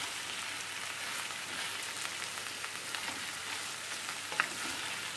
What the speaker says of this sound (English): Then I'm going to just add my ackee and just give this a stir.